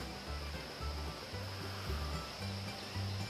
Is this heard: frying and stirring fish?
no